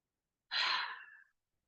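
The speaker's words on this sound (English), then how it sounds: "Another big inhale." A single deep, breathy inhale during a yoga session, close and clear, rising quickly and tapering over about three-quarters of a second in otherwise quiet surroundings.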